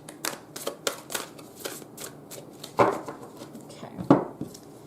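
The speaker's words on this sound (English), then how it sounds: "There's a couple more cards that want to come out here. Let me shuffle just a little bit more." Tarot cards are shuffled by hand in a quick series of close, crisp riffles and taps, with a couple of louder slaps as the deck is squared.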